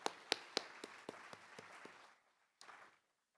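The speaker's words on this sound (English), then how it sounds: "Let's give her a hand clap." Sparse, distinct hand claps from a small group at a university welcome meeting, a few sharp claps fading out, then a brief final burst of clapping.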